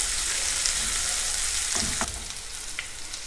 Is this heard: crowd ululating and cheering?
no